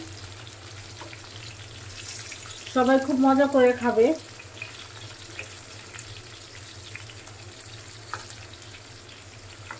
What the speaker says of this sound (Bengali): আলুটাও ভাজা হোক